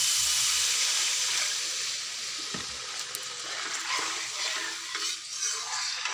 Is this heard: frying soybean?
yes